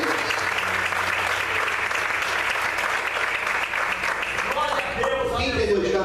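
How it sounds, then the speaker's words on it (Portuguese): A church congregation applauds during an evening service, with dense, sustained clapping throughout, and singing or voices rising over it near the end. "Você pode aplaudir o Senhor nessa noite."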